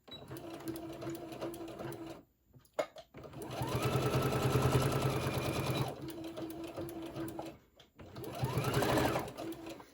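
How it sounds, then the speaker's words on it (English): A sewing machine back stitches the seam of a small rainbow tote bag, its motor whirring in several steady bursts separated by short pauses, loud and close, with no talking. "I'm going to back stitch here."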